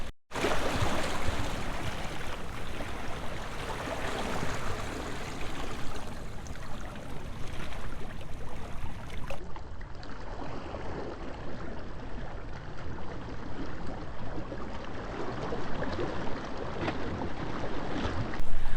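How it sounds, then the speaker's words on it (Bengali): Sea waves at Patenga beach in Chittagong, a continuous rushing wash of surf and wind heard nearby for the whole stretch, no talking. "পানির ঢেউ আসছে"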